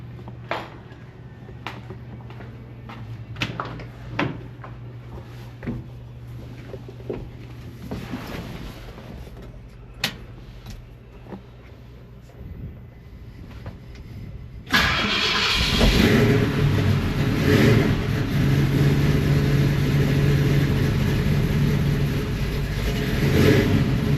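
A carbureted engine with a freshly raised idle and a ramped choke fires up after a stretch of quiet low hum and light clicks, then settles into a loud, steady idle that runs on without break.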